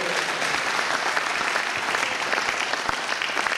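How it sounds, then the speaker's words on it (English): Audience applause at a church banquet service, dense steady clapping throughout with no voices over it. "I thought someone was clapping for Jesus."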